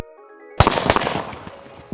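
Four Kuruvi firecrackers from Sivakasi burst together in one loud, sharp explosion after a moment of quiet, followed by crackling debris and a second short pop near the end.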